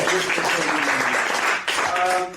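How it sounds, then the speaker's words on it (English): An audience at a chapter meeting gives a short, loud round of applause. Dense clapping fills the room and then fades, with a little talk mixed in toward the end. "Can you please give him a round of applause for noticing me?"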